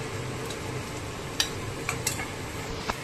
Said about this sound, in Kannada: ನೋಡಿ, ಈರುಳ್ಳಿ ಹಾಕ್ಕೊಂಡು ಹುರ್ಕೊಳ್ತಾ ಇದ್ದೀವಿ.